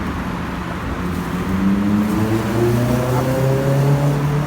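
A lowered car's engine idles with a low rumble, then revs up steadily louder and holds a deep droning roar, close by, with no talking.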